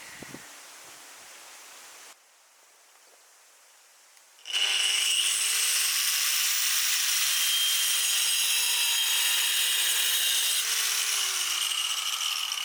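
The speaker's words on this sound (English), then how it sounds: "And I'm gonna use angle grinder." An angle grinder cuts through roof tile during a rural cabin renovation, a loud, steady high-pitched whine and grinding rasp starting abruptly after a quieter lead-in and running continuously to the end.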